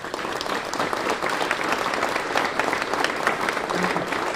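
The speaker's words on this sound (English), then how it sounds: "please give yourselves a huge round of applause" An audience at a Kansas City airport event gives a sustained, dense round of applause, loud and even throughout, with no voices breaking through.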